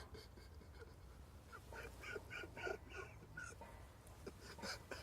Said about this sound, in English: Oh, this duck.